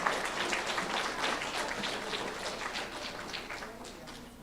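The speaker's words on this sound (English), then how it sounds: "Give them a round of applause." At an elementary school third-grade awards ceremony, an audience gives a fairly quiet round of applause, soft, scattered clapping from a modest crowd that tapers off gradually.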